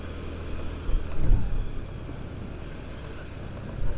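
A vehicle engine rumbles and surges while climbing and descending a hilly road in Uluwatu, Bali, swelling briefly in a revving push near the start and again at the end over a steady low drone.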